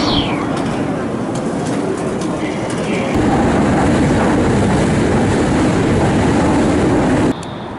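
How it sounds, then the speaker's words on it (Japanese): A Nankai Railway train running, a loud close rumble of wheels and carriage with faint rhythmic clatter and brief high squeaks, holding steady before dropping in level near the end. "Thank you for taking 南海 Railway today"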